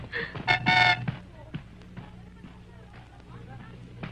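A car horn gives a short burst of honks, then low street noise and murmuring voices follow.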